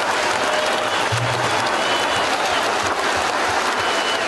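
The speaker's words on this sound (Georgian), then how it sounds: "სიტყვით გამოსვლა ბიძინა ივანიშვილზე საუბრით დაიწყო, რასაც დარბაში ტაში მოყვა" An audience in a hall breaks into dense, sustained clapping that stays loud and even throughout.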